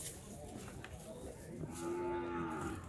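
A single drawn-out cow moo rises out of a quiet outdoor background at a cattle fair in Estrela de Alagoas, Brazil, low and mournful, lasting about a second.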